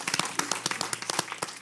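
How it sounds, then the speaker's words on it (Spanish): Church congregation clapping together, a burst of fairly rapid, close handclaps that thins toward the end, with no talk over it. "Vamos a dar un aplauso porque nos estamos durmiendo."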